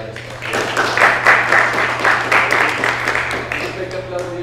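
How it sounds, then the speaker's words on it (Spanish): An audience claps at a talk event, a short burst of scattered applause under a low steady hum, with voices mixed in. "un aplauso para vos"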